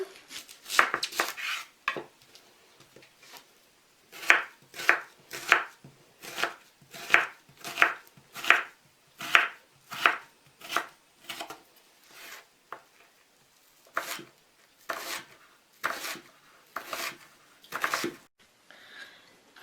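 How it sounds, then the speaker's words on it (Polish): A knife dices an onion on a cutting board in quick bursts of sharp, crisp chops, a cluster at the start and then a steady rhythmic run of single strokes with short pauses, close and clear with no talking. "Cebulę pokroję na kostkę"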